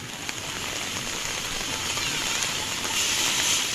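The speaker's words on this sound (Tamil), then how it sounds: "இடியுடன் கூடிய கனமழை பெய்தது." Heavy rain falling across a rural area, a steady dense hiss of drops on surfaces with no distinct thunder cracks, continuous and fairly loud throughout.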